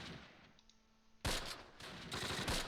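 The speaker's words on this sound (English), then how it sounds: "Machine gun fire in there." Machine gun fire in the World War II strategy game Close Combat Last Stand Arnhem, Heumen Bridge battle: a faint lull, then sudden loud bursts of rapid gunfire crackling on to the end.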